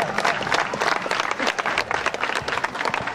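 Students at a village mandal-level sports meet in Mothe clap together to welcome a flag hoisting, a dense, loud, continuous burst of applause lasting a few seconds.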